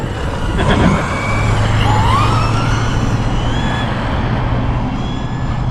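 A Traxxas Raptor R Ultimate Edition RC truck drives and accelerates close by, its electric motor whining in steady rising and falling tones over continuous rolling and rumbling noise that lasts the whole stretch.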